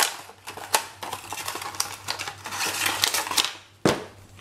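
A small gift box is opened by hand, with a run of quick close clicks, taps and rustles and a sharper knock near the end.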